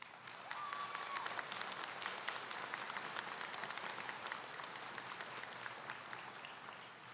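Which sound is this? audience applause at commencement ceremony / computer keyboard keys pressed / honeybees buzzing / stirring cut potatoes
audience applause at commencement ceremony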